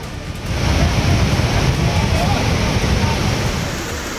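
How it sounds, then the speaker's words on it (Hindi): Floodwater from a cloudburst in Pahalgam, Kashmir, rushing down from the mountains as a loud, steady, broadband roar that swells in after a quieter half-second and continues unbroken, with no voices. "पहाड़ से अचानक पानी आने से दहशत"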